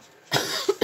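A single harsh cough bursts out close by, followed quickly by two short throaty coughs.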